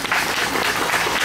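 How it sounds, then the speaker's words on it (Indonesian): Applause from the audience at an Islamic New Year (1 Muharram 1439) community religious gathering in a village, honouring Nahdlatul Ulama: dense, steady clapping from a large crowd filling the whole moment with no voices on top. "Tepuk tangan untuk NU."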